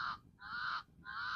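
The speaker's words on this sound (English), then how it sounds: "You can hear a crow crowing somewhere here" A crow caws outdoors three times in a slow, even rhythm, each call harsh and drawn out, faint and somewhat distant, with no talk over it.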